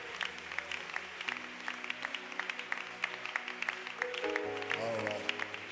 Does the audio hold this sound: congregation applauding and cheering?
yes